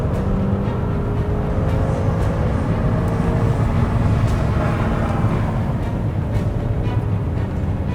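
A 2021 Maserati Levante GTS engine pulls under throttle, a loud, sustained deep roar with a rising tone, heard from inside the cabin with no voices.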